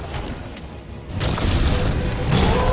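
A blast from the Raging Brachydios fight in Monster Hunter World: Iceborne, a loud broad boom that swells after a second and holds as a dense rumbling roar with crackling debris, no talking over it.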